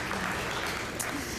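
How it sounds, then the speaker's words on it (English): Steady, dense audience applause fills a convocation hall for Seattle Colleges staff, a continuous wash of many hands clapping with no break over the short stretch. "please join me in another round of applause for all the folks that have joined us today"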